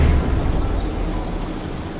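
Heavy night rain at a bus terminal, a steady broadband wash of rainfall with deep low rumble, loud and unbroken for the whole stretch, no voices.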